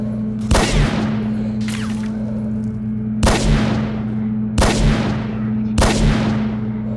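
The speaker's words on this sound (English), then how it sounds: "let's use the Gauss now" A Gauss rifle fires in STALKER: Shadow of Chernobyl, five loud, evenly spaced charged shots, each a sharp crack with a ringing decay, over a steady low electric hum.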